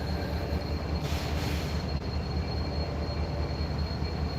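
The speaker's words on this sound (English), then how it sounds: "I'll tell it to you as soon as our train gets by here." A freight train rolls past a trackside spot at Ooltewah at night, a steady close rumble of railcars and wheels with a faint metallic squeal and a brief hiss partway through, no talking.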